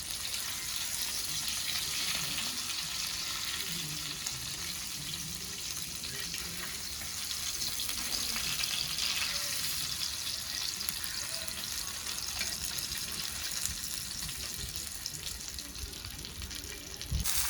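Stuffed pomfret fish fry in a pan, giving a soft, steady hiss of sizzling oil that runs unbroken and fairly quiet throughout, with no voices.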